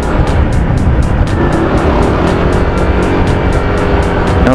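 A Honda Click 150i scooter fitted with a performance air filter runs under load, its engine droning loud and steady with wind rush and a rising whine as it accelerates.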